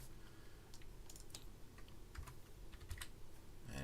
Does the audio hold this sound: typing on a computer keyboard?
yes